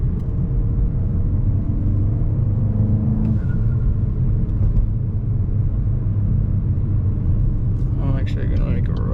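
Continuous low rumble from a Stage 1 tuned Mk8 VW GTI engine cruising through city streets, steady and droning throughout, with a faint squeal and some clatter near the end.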